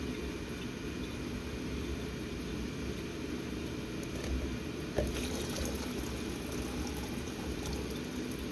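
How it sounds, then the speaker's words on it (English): Water poured into containers holding corals for a reef-tank coral dip, a steady low wash of liquid filling with one brief splash-like knock midway, no talk. "put enough water to cover the corals all the way up in each container"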